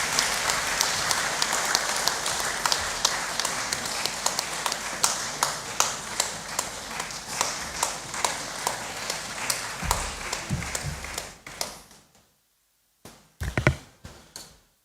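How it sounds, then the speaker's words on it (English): Loud audience applause welcoming a speaker to the stage at a New Year school and conference, dense steady clapping for about eleven seconds before dying away, followed by a few scattered claps and thumps. "Please let's receive Dr. Sube with a loud round of applause."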